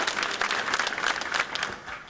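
A crowd applauds the former bishop of Treviso, a steady, moderately distant patter of many hands clapping throughout, with no voices standing out.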